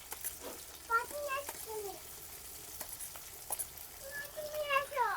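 Fried potatoes dropped into hot oil for a rui fish curry with tomato, soft sizzling and scattered stirring clatters in a home kitchen, fairly quiet, with a voice and other voices talking over it.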